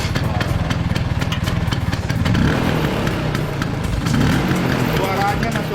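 A Vespa scooter with its original, unmodified engine idles steadily nearby, a low throbbing putter with slight surges, while people talk over it.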